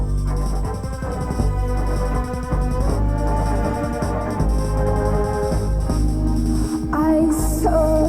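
An excerpt of Björk's The Hunter in G, built on a Phrygian dominant progression: dense, steady music with sustained harmonic layers and a shift in texture near the end, without speech.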